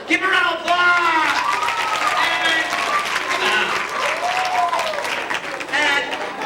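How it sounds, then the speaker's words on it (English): Middle school students at a conflict resolution assembly break into loud, sustained applause that fills the room, mixed with children's shouts and cheers over several seconds. "Give them a round of applause!"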